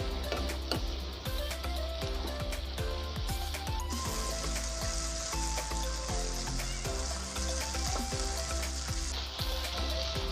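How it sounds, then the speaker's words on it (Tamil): Mint leaves fry and are stirred in a pan for veg dum biryani, a soft hissing sizzle with light ticks of stirring running under steady background music. "புதினா இலைலாம் நல்லா ஃப்ரை ஆகணும், அது வரைக்கும் நம்ம மிக்ஸ் பண்ணிக்கிட்டே இருக்கலாம்"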